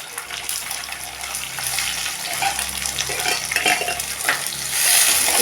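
Curry leaves and green chillies hit hot oil for a Sri Lankan dried-fish curry, crackling and sizzling loudly up close with stirring, the frying swelling louder toward the end.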